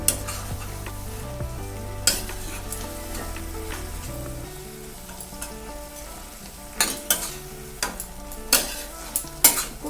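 Banana flower curry being stirred and fried in a pan with a splash of water, a steady close sizzle under repeated scraping and clattering spoon strokes against the pot, with sharper knocks near the end.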